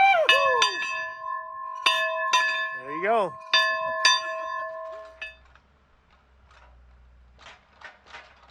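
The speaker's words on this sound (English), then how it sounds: "they came all the way from Mexico to ring that bell" A ranch bell is struck several times in quick succession, each ringing clang leaving a bright metallic tone that lingers and decays, before fading into quiet room sound with a brief spoken remark.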